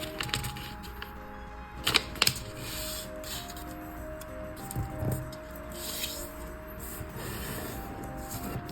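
Paper being folded and creased for origami, with close crisp crinkles, a few sharper scraping snaps and soft rustling between them, no talk.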